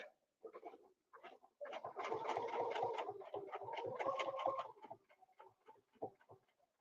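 A quiet sewing machine stitches in short runs, a rapid even ticking that steadies into one longer burst, then trails off in sparse clicks.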